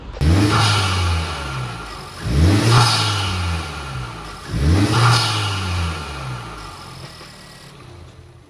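A Honda Civic Type R FK8 engine with a PRL HVI aftermarket intake revs up three times in succession, each rise followed by a slow fall back, loud and close with a throaty intake roar.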